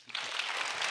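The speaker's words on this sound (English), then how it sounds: "join me in giving JD a round of applause" Brief burst of applause from an audience at a panel discussion, quickly swelling into steady, fairly quiet clapping that holds evenly for about a second.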